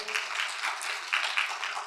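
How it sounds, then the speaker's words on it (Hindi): Applause for a participant at a Brahma Kumaris public speaking class, a fairly faint, steady patter of clapping from a small group lasting a couple of seconds. "तालियां होना की चाहिए भाई के लिए"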